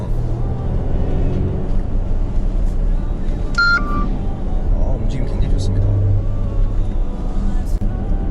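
A steady low gasoline engine rumble from inside a moving 2020 Mercedes-Benz GLC 300 Coupe while cornering, someone talking over it, with a few brief electronic beeps.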